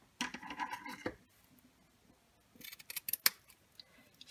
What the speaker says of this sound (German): Das heißt, ich schneide es hier ab.